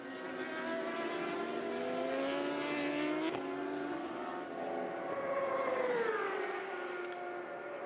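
An experimental endurance racing motorcycle at the 2023 Bol d'Or screams past at a distance, its pitch rising and falling as it shifts, with a continuous whine over faint background noise.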